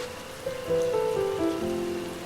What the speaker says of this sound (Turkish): Yağmur başladı tekrar.